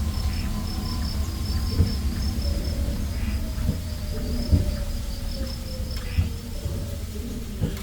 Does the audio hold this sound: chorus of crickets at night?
yes